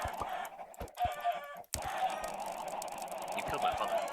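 Minecraft chickens cluck in short, repeated bursts over a steady background of game ambience and other game noise, with a brief dropout partway through.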